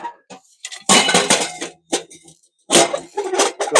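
A metal damper fitted into a hot tent camping stove in extreme cold, heard as clanking and scraping metal-on-metal knocks in two loud bursts with small clinks between, close up and without talk.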